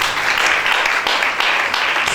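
A church congregation bursts into applause and cheering for Shaddai, a steady, dense wash of clapping and shouts filling the room throughout.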